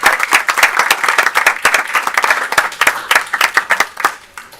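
Audience applause at a city commission meeting right after a motion passes, a dense burst of many hands clapping that fills the room and tapers off toward the end.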